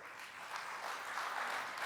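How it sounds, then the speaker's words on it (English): A conference audience applauds a guest at a global pulses conference, the clapping blending into a dense, even wash that holds steady and fairly loud from start to finish. "A very big round of applause"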